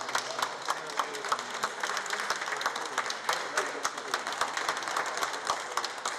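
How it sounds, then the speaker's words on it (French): Applause fills the room as the prime minister enters the presidential palace: dense, close clapping from a crowd, steady and sustained throughout. "C'est sous les applaudissements qu'il a fait son entrée ce mercredi matin dans le palais présidentiel"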